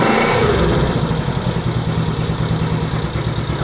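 A 1970 Honda CB350 motorcycle engine idles steadily and loudly after a cold start with the choke just turned off, a continuous close-up rumble with a slight uneven pulse.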